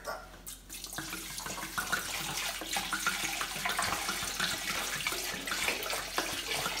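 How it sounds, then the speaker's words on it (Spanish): Water pours from a tap into a pot for pozole rojo, a steady splashing flow with small bumps and clanks, moderately loud, heard without talk. "Vamos a echarle su agüita."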